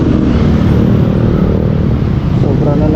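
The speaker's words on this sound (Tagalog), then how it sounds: "sobra na naman traffic Monday morning." Monday morning road traffic rumbles past as a loud, low, continuous roar of car engines, steady throughout with slight swells, while a voice can be heard talking faintly beneath it.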